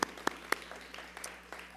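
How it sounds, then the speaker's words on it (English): Sparse, scattered audience applause at a festival talk: a few sharp individual claps stand out early, then softer clapping trails off faintly over a low steady hum. "Yes, applause are well worth giving."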